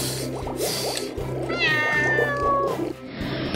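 A kitten gives a few high, plaintive meows amid splashing water and clattering background noise.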